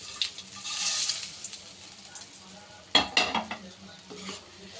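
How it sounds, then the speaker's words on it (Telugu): Fried eggs go into an onion egg curry sizzling in a pan, a steady close frying hiss broken by a few sharp clatters of spoon against metal from stirring. "ఇప్పుడు ఈ ఫ్రై చేసుకున్న ఎగ్గుని ఇందులో వేసేసుకున్నాం"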